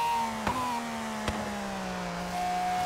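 Race car engine in Forza Horizon 3, a steady high-pitched screaming drone with falling tones as it shifts and holds speed, loud and close, with two sharp clicks along the way and no talk.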